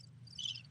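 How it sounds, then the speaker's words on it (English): Brief crickets sound effect, a faint high chirping trill over a low hum, short and quiet. "crickets. Yeah, crickets. That's a good one."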